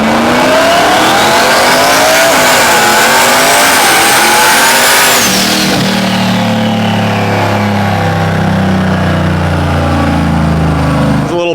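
A turbocharged car engine on a dyno revs hard in a long, loud, rising pull at about 9 PSI of boost, then shifts and drops to a deep, rumbling drone, very close and alone.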